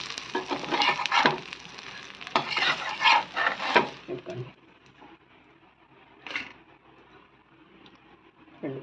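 Carrot and rice flour dosa cooks on a pan, with bursts of sizzling and scraping stir sounds in the first half, then quieter crackle and an occasional clatter, with no talk.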